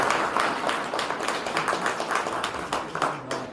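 Applause from a church congregation at a Newcastle tombstone unveiling service, steady dense clapping with a few sharper individual claps, fairly close and full throughout.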